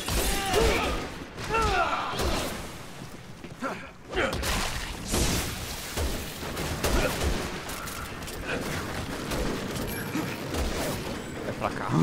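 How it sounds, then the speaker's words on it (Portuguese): Gunfire in the Resident Evil 6 co-op campaign: rapid bursts of shots mixed with mechanical clatter and ratcheting, sustained throughout, with players' voices faintly underneath. "Tem uma música, só os barulhos de tiro."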